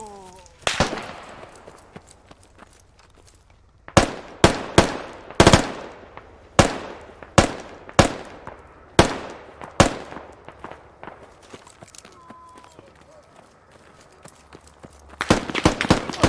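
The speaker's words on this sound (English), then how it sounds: "Big gun." Gunfire in the military shooter game Squad: a series of sharp, loud shots in a rapid burst, then quiet, then another cluster of shots at the end.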